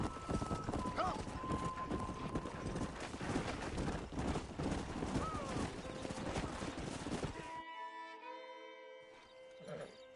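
Horses clip-clop in the Red Dead Redemption game, a steady hoof rhythm under a full, busy game soundscape with faint gunfire-like bursts, thinning out near the end.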